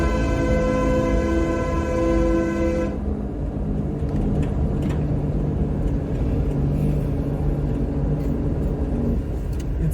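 A loud horn on a truck passing along a rough road sounds a sustained tonal blast for about three seconds, then gives way to a steady close rumble of engine and tyres.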